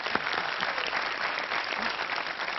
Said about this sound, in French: Ça s'applaudit, ça, quand même.